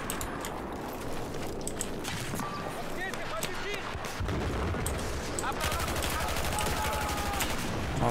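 M249 machine gun fire in the PC game Battlefield 4, with bursts of automatic gunfire and scattered shots crackling through a busy battlefield mix, moderately loud and continuous.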